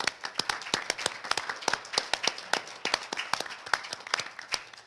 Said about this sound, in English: So I think they all deserve a round of applause.